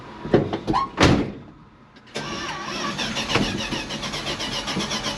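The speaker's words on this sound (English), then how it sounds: "Hopefully we'll get it started. There she goes." A cheap turbocharged six-cylinder car engine cranks in a few short bursts, catches, then settles into a loud, steady idle close to the microphone.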